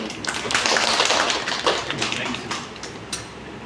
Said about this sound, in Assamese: তেওঁ দুইজনলৈকে এটা উষ্ম হাত চাপৰি